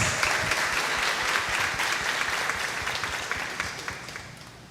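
A gathering at an evening Bible study claps to welcome a priest, a full burst of many hands that starts strong and gradually thins and fades toward the end.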